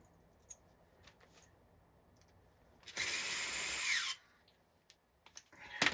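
A terminal screw on arcade machine wiring is driven tight with a power driver in one loud burst of about a second, preceded and followed by faint handling clicks and taps.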